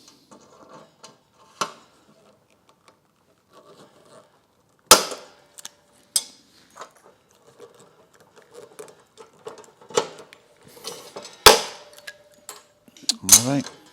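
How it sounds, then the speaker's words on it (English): Aluminum reinforcement is riveted onto the inner door skin of an MGA car: a series of sharp, isolated snaps and clacks, irregularly spaced and separated by quiet handling noises, ending in a quick cluster of louder bangs. "I'm going to lock it in place with some rivets."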